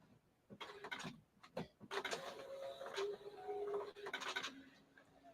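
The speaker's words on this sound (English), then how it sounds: "I wish this printer would shut down." A printer running a maintenance cycle, a faint series of whirring, scraping and clicking mechanical passes with short tones, heard quietly in a room.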